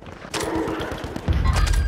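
Rapid automatic gunfire from a beam-like gun in a live multiplayer shooter match, with dense bursts of shots and heavy thumping impacts, continuing loud and close throughout.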